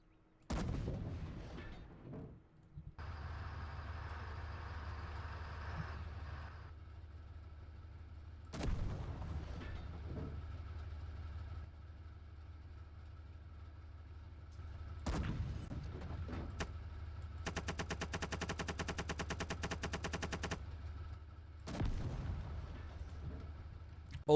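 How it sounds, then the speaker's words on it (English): A 105 gun and a machine gun fired in the Call to Arms game: several heavy, deep booms spaced seconds apart with long rumbling tails, plus a short rapid rattle of machine-gun fire, no talking. "I'm gonna let you guys listen to this 105 gun, and then of course the machine gun as well"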